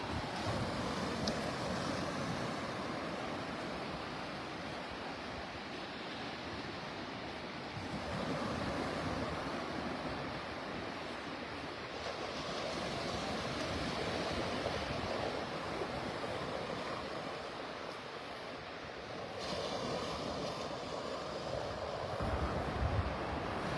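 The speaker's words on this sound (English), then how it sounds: "sounds of Mother Ocean." Ocean surf washes steadily onto a beach at Delnor-Wiggins Pass in North Naples, Florida, a continuous roar of breaking waves mixed with gusty wind noise on the microphone, with no talking.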